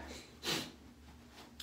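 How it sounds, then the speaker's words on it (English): A short, close nasal sniffle from someone with allergies, one sharp intake of air followed by a fainter second sniff, over a quiet room. "Ignore the sniffling. I got some allergies going on today."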